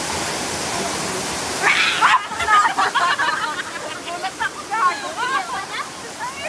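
A waterfall roars as a constant broadband wash, with people talking and chattering over it from about the midpoint onward.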